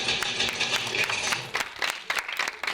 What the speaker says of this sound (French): Des applaudissements qui mettent les larmes avant les premières images de Petite Maman de Cécile Sciamma